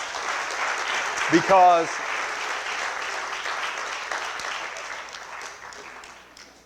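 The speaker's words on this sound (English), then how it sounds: "give them a round of applause." Congregation applauding preschool staff during a church service message, a sustained wash of clapping under which someone speaks briefly, then slowly tapering off.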